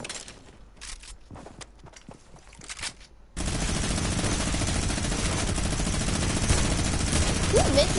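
Video game gunfire comes as sparse isolated shots, then turns into a dense, sustained automatic barrage that runs loud to the end.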